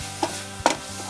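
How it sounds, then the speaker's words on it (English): Beef frying in its own rendered lard for patola soup, a steady close sizzle over a low hum, with two brief sharp stirring or scraping knocks. "as it starts to sizzle, to cook in its own lard"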